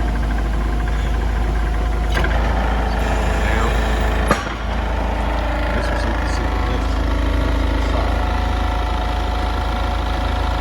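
A sit-down forklift runs with a steady, loud engine hum and low rumble while its forks are raised, with a brief clunk in the middle and the motor note shifting slightly afterward.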